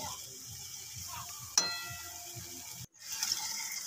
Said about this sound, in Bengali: অল্প অল্প জল দিচ্ছি আর কষাচ্ছি